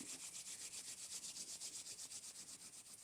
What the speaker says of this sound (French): On frotte nos deux mains pour venir activer l'énergie.